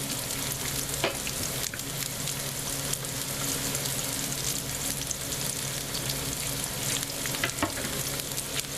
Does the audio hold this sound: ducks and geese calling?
no